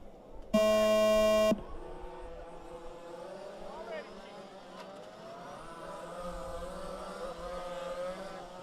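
A loud electronic start tone for a 5th scale 4WD spec radio-controlled car race sounds once and holds steady for about a second, followed by a low rumble of idling engines and distant chatter.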